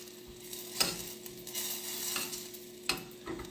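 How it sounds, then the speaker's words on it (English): A tea cocktail mixture with butter being stirred until the butter melts, heard as a soft sizzling hiss with a few sharp clinks and scrapes of a utensil against the pan, close and fairly quiet. "And then we're just going to mix together"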